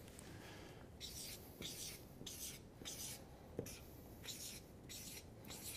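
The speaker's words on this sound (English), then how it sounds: "I'm going to be drawing a lot here" Pen drawing numbers on paper, quick repeated scratchy strokes in short bursts with pauses between them, quiet and close.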